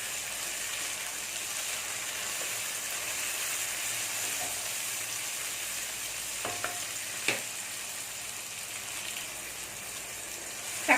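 Tomatoes sautéing with onions in a pan for a Hyderabadi-style chicken dish, giving a steady, even sizzle throughout with a couple of brief stirring clinks and scrapes near the end.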